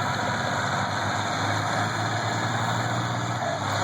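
Steady, loud idling drone of an antique tractor engine during a tractor pull at an antique power show in Sharon Springs, New York, a continuous low rumble with a constant hum and no talk.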